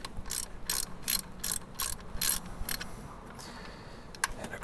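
Close, quick ratchet clicks come in several short bursts as bolts on a Mercedes Sprinter alternator bracket are snugged down, with brief pauses between the runs of clicking.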